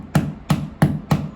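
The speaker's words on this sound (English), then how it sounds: "I can't hammer this in and hold the camera at the same time" Gentle hammer taps drive toothpicks into a loose bathroom door hinge screw hole, four evenly spaced knocks, close and fairly loud, with no voice over them.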